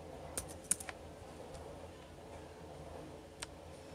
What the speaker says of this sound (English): Now the next thing we are going to do is type up pineapple.